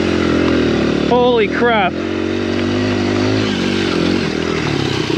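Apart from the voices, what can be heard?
Honda XR100R dirt bike engine riding through snow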